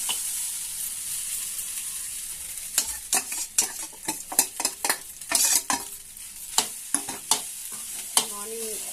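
Leftover idli and rice being stirred and fried in a pan: a soft sizzle with a run of sharp, irregular scraping strokes from the spatula, growing busier partway through.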